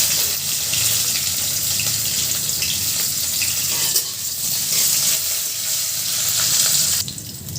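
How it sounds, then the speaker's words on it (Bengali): Onion, dried red chilies and green chilies fry in a pan for a cauliflower and potato dish, a loud close crackling sizzle with stirring scrapes, briefly dropping in intensity toward the end. "হয়ে গেছে পেঁয়াজটা ভাজা"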